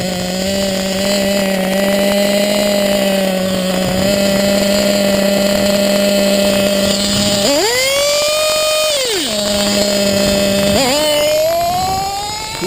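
An old nitro engine with ported internals runs loud and close with a buzzing, high-pitched whine. It holds steady, then revs sharply up and back down, then bogs and climbs again.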